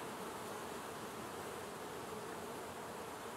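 Honey bees buzz around an open hive frame of brood, a dense continuous drone that stays steady and close with no talk over it.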